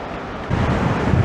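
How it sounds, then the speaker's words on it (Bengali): Strong wind blows at a rocky mountain cave in the Niti Valley of Uttarakhand, making a loud continuous roar that buffets the microphone and swells halfway through. "প্রচণ্ড হাওয়া, প্রচণ্ড হাওয়া এখানে।"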